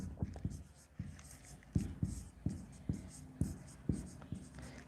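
Chalk or marker scratches and taps on a classroom board during a grammar lesson, short strokes in an irregular rhythm, close and moderately loud, with a teacher's voice faintly present between strokes.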